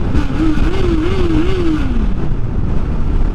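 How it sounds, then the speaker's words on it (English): A Honda CBR650R motorcycle with stock exhaust hums steadily, then its pitch rises and dips before dropping away, heard up close over constant rushing wind noise. "I've only got stock exhaust, but it is awesome and it sounds awesome too"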